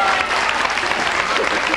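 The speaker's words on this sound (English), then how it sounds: "Give them all a big round of applause." A studio audience at a Universal Studios game show gives steady, loud clapping throughout, a continuous wash of many hands with no gaps.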